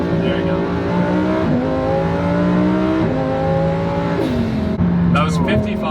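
An 800-horsepower twin-turbo rear-wheel-drive Lamborghini Huracan drives hard, its engine droning loud and close with rising and falling pitch through several gear changes, while people talk over it inside the car.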